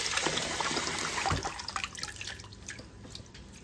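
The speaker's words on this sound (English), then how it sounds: "make sure you get every single leaf addressed with some nice clean water." Running tap water rinses fresh artichokes in a kitchen sink, a steady close splashing and trickling that eases slightly toward the end, with no talk.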